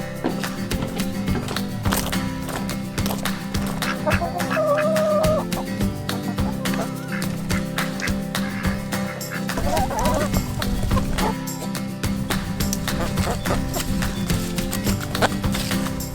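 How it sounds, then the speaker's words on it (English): Farm chickens and other fowl cluck and call in a steady busy chorus, with scattered taps and pecks throughout, close by in an outdoor coop, no talking. "let's go see some chickens"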